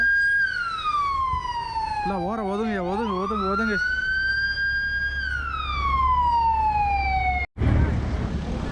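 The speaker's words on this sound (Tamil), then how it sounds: "அதுவும் இந்த இடத்துல வந்து ஆம்புலன்ஸ் வருது." An ambulance siren wails up and down, briefly switching to a rapid yelp, amid heavy traffic noise in Istanbul, with a voice speaking near the end.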